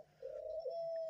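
A pet dove gives a single soft, low coo, close by and quiet, with no talk over it.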